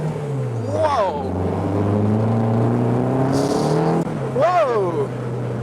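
A 2005 Caterham Super Seven on a wet road in second gear, its engine droning loud and close with steady revs and a shift mid-run, while a man exclaims over it.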